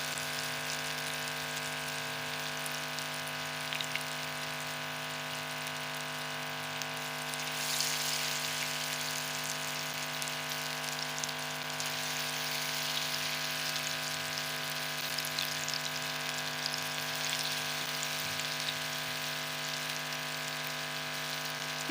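Moong dal mangochiyan frying in oil over a low flame, a steady, even sizzle with a constant hum running beneath it, close and alone for the whole stretch.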